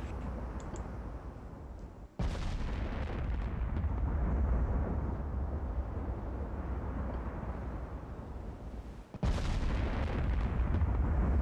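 18-inch naval guns fire in a naval battle video game: two heavy booming salvos about seven seconds apart over a constant rumbling battle backdrop.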